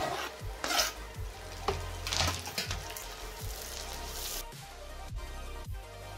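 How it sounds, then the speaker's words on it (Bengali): Onions, garlic and tomato fry in hot oil for a Bengali boal fish mustard curry, a steady close sizzle broken by scraping stirs and clinks of a spatula against the pan. "ওই বাকি তেলেই পেঁয়াজগুলো আমি দিয়ে ব্রাউন করে ভেজে নেব"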